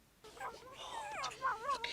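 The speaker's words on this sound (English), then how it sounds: "it purrs like a cat" Gizmo, the Mogwai creature from the Gremlins 2 movie, makes soft, warbling cat-like coos and trills that rise and fall in short bursts, faint and close.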